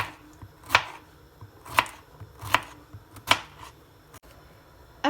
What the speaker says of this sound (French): je commence à couper mes petites courgettes